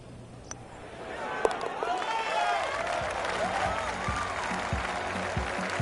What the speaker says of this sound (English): Oh, you got to applaud him there, though.